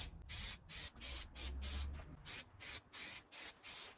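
An aerosol spray paint can lays a first light coat onto plastic bump strips on a car, hissing in about ten short, evenly spaced bursts, close and clear with no talk.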